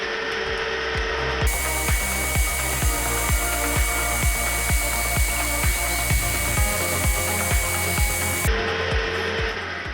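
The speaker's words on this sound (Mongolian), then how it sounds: "төв цэг дээр бид нэр төвлөгч өрмөөрөө өрөмднө" A center drill bores into metal on a milling machine, a continuous machine whine with a sharp rhythmic ticking repeating about twice a second, steady and close throughout.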